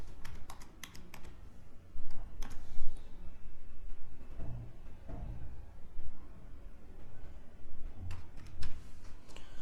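Keys clatter in quick bursts with a few sharper mouse clicks as a password is entered for a login on a computer, close and moderately loud over a faint room background, with no talking.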